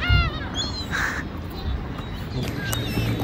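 Birds call with harsh, crow-like caws at an outdoor fishing spot near a mountain, giving a few scattered calls over steady background noise.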